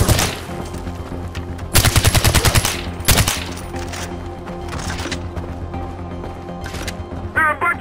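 Rapid automatic gunfire in the video game Far Cry 4, loud and close, with dense bursts of machine-gun rattle and scattered single shots amid mechanical clatter.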